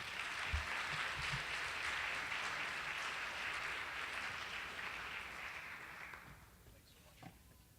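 Audience applause at a Columbia University energy symposium greeting keynote speaker Jeffrey Sachs, a dense steady roar of clapping that carries for about six seconds before thinning out and fading.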